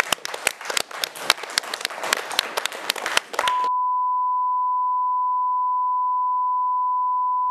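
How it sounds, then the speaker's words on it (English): Crowd applause and clapping at a rugby club event rattles for several seconds, then abruptly gives way to a long, steady, loud beep tone that holds until the end. "please be a big round of applause for Michael Carter."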